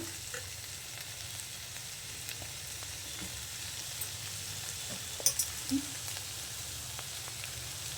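Steady close sizzle of ivy gourd curry stir-frying with greens and grated coconut in a pan, a continuous hiss with occasional light stirring taps and clicks, no voices.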